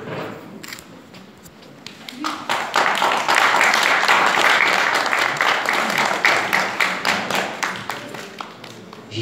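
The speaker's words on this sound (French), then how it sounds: "Donc, nous allons encore applaudir Claude Armanda." An audience at an award ceremony for African women's leadership bursts into sustained applause, starting thin and swelling into dense, fairly near clapping that thins again into scattered claps.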